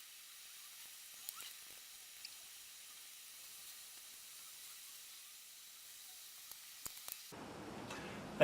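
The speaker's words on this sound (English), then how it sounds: "just as these tablets are about to run out, we've just got ourselves a rolling boil" Water at a rolling boil in a pot over a folding firebox stove fuelled by hexamine tablets gives a steady, soft hiss with a few faint ticks, then turns rougher and fuller near the end.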